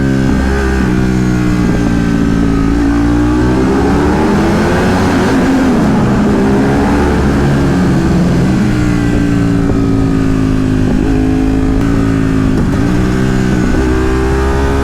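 A Ducati 848 EVO motorcycle is ridden through the Mulholland canyons, its engine droning loud and steady throughout, the pitch rising and falling as the rider revs and shifts.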